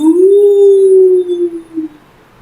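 A voice imitates a wolf howling during a nursery rhyme, giving one loud, sustained tonal howl that holds steady and then trails off with a brief final wobble.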